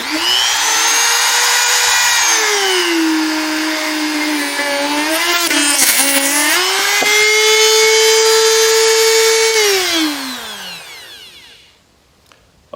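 A high-pitched Ryobi RRT200 rotary tool with a sanding drum whines loudly and steadily, its pitch dipping and straining as it bogs under heavy pressure, then winding down to silence near the end.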